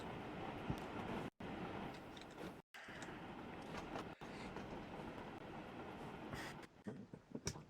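A Black 5 steam locomotive pulling away from a station in Transport Fever 2, a continuous rumbling rail-wagon roar with faint clatter, steady and fairly close, broken by a couple of brief cuts, with no talking.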